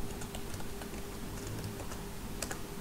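Typing and backspace key presses on a computer keyboard produce faint, quick, irregular clicks close by over a steady electrical hum, soft and low in level with no voices.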